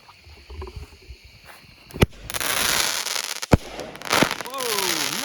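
12-shot 200-gram firework cake, Out of This World by Hot Fireworks Complex: sharp launch thumps followed by loud crackling hiss and a rising whistle, close and outdoors, with a person talking over it.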